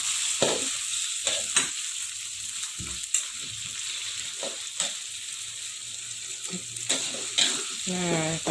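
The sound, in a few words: sautéing blended spice paste for chicken rendang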